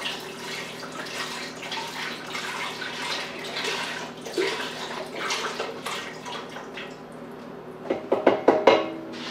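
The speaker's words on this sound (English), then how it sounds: "you take some vegetable broth," Vegetable broth pours into a pot for chicken tortilla soup, a steady splashing liquid rush, followed by a few clunks and knocks as the container is handled.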